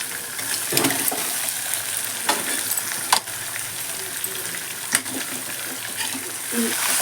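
Fish curry mixture being stirred in hot oil in a pan, with a steady sizzling fry and occasional sharp scrapes and clinks of the spoon against the vessel, close up.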